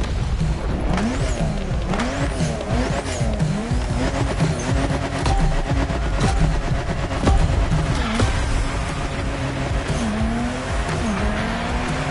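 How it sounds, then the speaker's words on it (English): Peugeot 3008 DKR maxi buggy racing off-road in The Crew Motorfest: a loud, continuous engine roar rising and falling through gear changes, with tire squeal and skidding across a time-attack run, no talk. "Now you're going to challenge yourself even more in the time attack with a maxi buggy, the Peugeot 3008 DKR"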